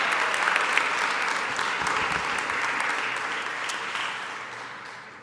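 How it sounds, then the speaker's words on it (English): Sustained audience applause fills a room at a community healthcare announcement, dense and steady for about five seconds before tapering slightly, with no talking over it. "Would you mind continuing that applause?"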